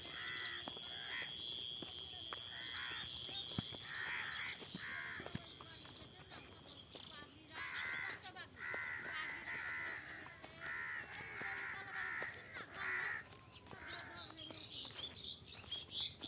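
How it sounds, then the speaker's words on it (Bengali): Many crows caw repeatedly in an outdoor town area, overlapping harsh calls in bursts at moderate distance, with other bird chirps and someone speaking over them. "এ প্রচণ্ড পরিমাণ কাওয়া বসে আছে"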